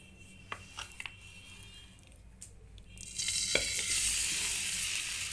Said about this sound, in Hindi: अब मैंने इसमें जो खजूर हैं उनको अच्छी तरह रोस्ट करूँगी।